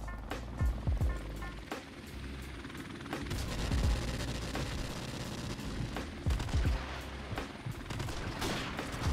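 Rapid automatic gunfire in Modern Warfare Remastered crackles in repeated short bursts, with sharp loud cracks and low thumps over a busy battlefield din.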